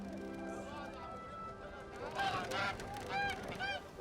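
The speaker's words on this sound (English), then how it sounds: "What a fantastic goose!" A goose honks repeatedly in short harsh calls, clearest in the second half, rising over background music and a noisy outdoor scene in an animated fairytale.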